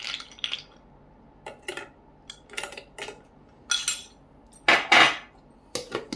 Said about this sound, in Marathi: आणि त्यानंतर आपण आईस घालून घेऊया, म्हणजे आणखी चिल्ड होईल मिल्कशेक